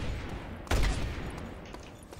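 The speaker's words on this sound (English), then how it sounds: "Oh, it's a machine gun. Now I have a machine gun." Machine gun fire in the video game Just Cause 2, a single loud sharp burst near the start followed by faint scattered shots over the game's background noise.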